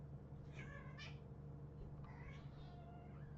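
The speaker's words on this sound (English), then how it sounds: "My cats are playing." Pet cats meowing while playing, two drawn-out meows about a second apart followed by another pair of meows, over a steady low hum from a room where a Civilization 6 game is running.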